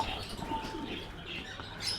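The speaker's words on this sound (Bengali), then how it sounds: "এই যে কবুতর দেখেন খাবার খাচ্ছে" Pigeons coo steadily and close by while feeding, with a few faint chirps and light rustling around them.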